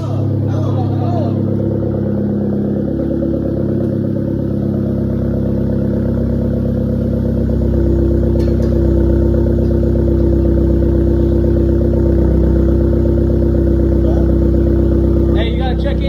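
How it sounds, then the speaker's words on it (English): A Genesis car with a downpipe and resonator delete idles loudly and deeply up close, its exhaust drone swelling as the engine is revved, with voices talking over it. "Give it a rev."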